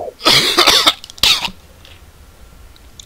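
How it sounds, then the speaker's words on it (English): One person gives two harsh, loud coughs close up, a longer burst followed by a shorter one, and then it goes quiet. "I probably do have lung cancer, but coughing so much."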